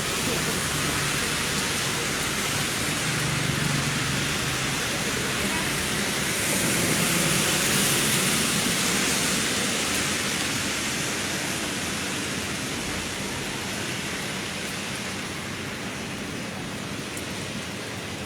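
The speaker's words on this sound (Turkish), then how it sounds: "Çok az yağıyor." Light rain falls steadily outdoors near a tent camp in Kahramanmaraş, a continuous soft hiss of drops that stays even and unbroken throughout.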